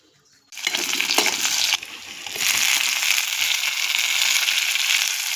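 Tomato and meat dropped into hot oil give a sudden loud sizzle that continues as steady crackling frying, with a brief dip and stirring before the sizzle swells again, no voices.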